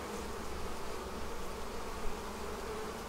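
Honey bees buzzing around a hive during a Demaree split, a soft, even hum that stays faint and constant throughout.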